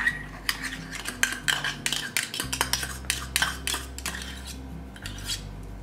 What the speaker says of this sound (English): And now I'm gonna just stir this